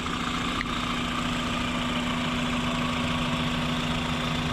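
A 2005 Pontiac Vibe GT engine idles steadily and close by, a continuous even hum with a faint mechanical buzz and no talking.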